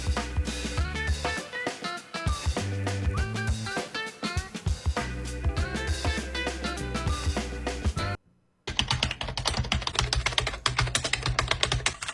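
Rapid clattering keystrokes on a computer keyboard, close and steady, comparing a $30 keyboard with a $75 keyboard: a brief silent gap, then a second, brighter-sounding stretch of typing.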